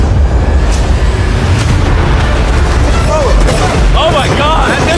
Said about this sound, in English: while these pretty fireworks are going off